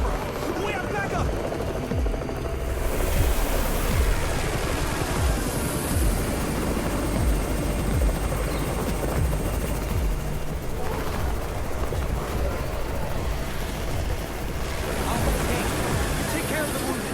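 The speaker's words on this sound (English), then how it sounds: "It's the Raven's chopper!" In the zombie survival game Undawn, a helicopter arrives with its rotor drone and heavy rumble running steadily throughout, mixed with game ambience and noisy voices.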